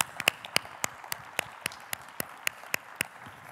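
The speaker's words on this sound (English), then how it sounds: "how about a round of applause for our panelists?" Scattered hand claps from a live audience at a Chicago crowdfunding panel, a few distinct claps spaced irregularly over a few seconds, fairly sparse and moderately near, with no talk over them.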